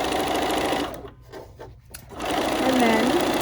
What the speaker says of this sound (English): So I'm doing a few stitches forward, then I'm going to use the quick reverse button and go a few stitches backwards.